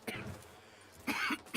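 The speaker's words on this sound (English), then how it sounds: "Oh no, that cough is starting." Arthur Morgan coughing in the Red Dead Redemption 2 video game, a short rough cough at the start and a harsher double cough near the end, fairly quiet with faint game ambience between.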